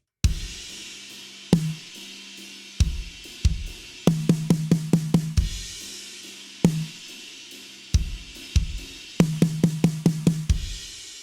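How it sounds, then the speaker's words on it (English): A drum groove in 6/8 time with a kick pulse and cymbal wash, broken up by fills of six quick snare hits in rapid succession, played loud and close with no voices. "you can just take those 6 hits and play all of them on the snare"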